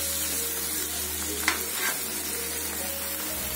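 Spices cook in a pan with a constant soft sizzle and a steady low hum, broken by a brief scrape of stirring midway.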